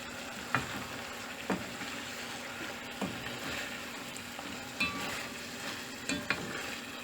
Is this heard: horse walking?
no